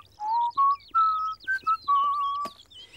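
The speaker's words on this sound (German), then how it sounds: "Dann pfeifst du einfach." A person whistles a short melody of clear, bright tones, several sustained notes with brief gaps, close and alone in a quiet space.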